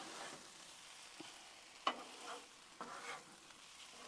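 A garlic butter mixture stirred in a pan for creamy tortellini: a faint, soft steady sizzle with occasional spoon scrapes and one sharp clink.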